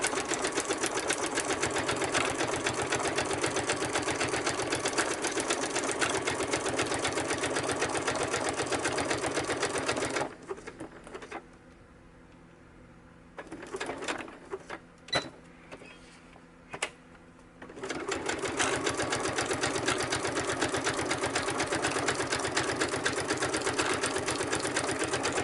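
A sewing machine back stitches an ephemera holder, whirring steadily and close for about ten seconds, pausing briefly amid soft handling sounds, then running again.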